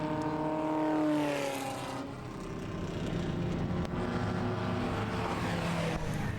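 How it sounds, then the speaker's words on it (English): A pre-1970s MG race car powers out of the final corner and accelerates down the straight at Winton, engine note climbing then fading and passing into a broad, continuing roar of motor noise. "Powers it up and heads on down the straight."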